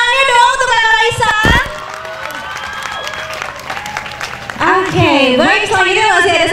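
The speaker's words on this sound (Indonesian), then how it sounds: "Tepuk tangannya dong untuk Kakak Raisa." An audience at a school closing ceremony applauds and cheers for a guest, with children whooping and voices shouting over the clapping, which dips midway and then swells again.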